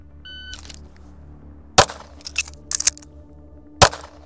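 Sharp gunshots from an Atlas EOS pistol fired outdoors on Florida sand: one loud report, a quick cluster of smaller cracks and clatters, then a second loud shot near the end, with quiet gaps between.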